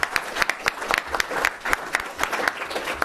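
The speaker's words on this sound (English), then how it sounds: "applause for this guy here" A conference audience applauds at an energy investment panel, a dense burst of steady clapping across the room lasting a few seconds.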